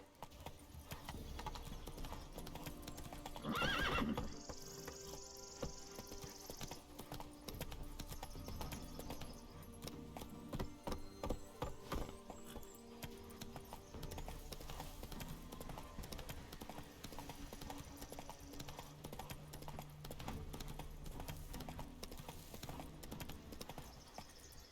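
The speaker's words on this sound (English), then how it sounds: "That's it, Roach." Horse hooves clip-clop steadily in The Witcher 3 video game, a continuous walking rhythm over ambient game sound, with a short whinny early on.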